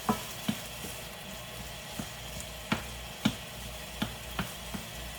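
Meat frying in a pan with low-sodium Kikkoman soy sauce, a quiet steady sizzle with regular sharp clicks and taps of a utensil stirring, no talking.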